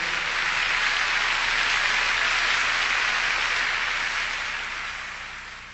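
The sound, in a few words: church congregation clapping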